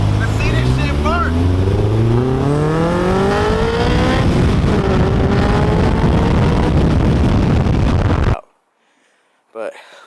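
A Honda S2000 revs hard during a burnout, its engine note climbing and sweeping up loudly and close for several seconds before cutting off abruptly, followed by a brief voice in the quiet.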